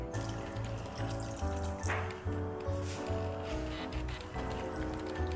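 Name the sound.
water poured into pot for chicken rice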